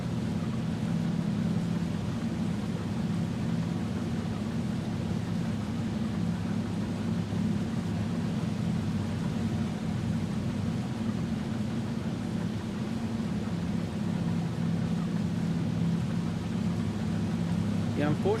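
A small tractor engine in Farming Simulator 25 drones steadily at a low pitch throughout, a constant close mechanical hum with no breaks and no talk over it.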